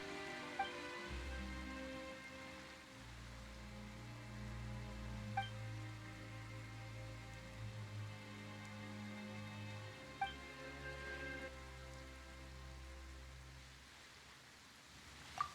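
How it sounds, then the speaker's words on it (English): Rain falls steadily in the Genshin Impact game world, a soft continuous patter under a low sustained musical score, with a few faint isolated drips standing out. "Why is it raining all of a sudden?"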